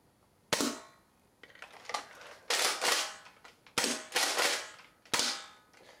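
A Nerf blaster fires foam darts at a target in a series of sharp snapping pops, about six shots at irregular intervals, each a loud crack with a quick fade and some handling noise between shots.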